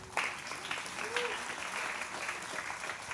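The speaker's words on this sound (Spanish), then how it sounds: "Un aplauso para el primer valiente." A church congregation claps together, a fairly even burst of applause lasting a few seconds, heard at moderate distance with a brief vocal sound partway through.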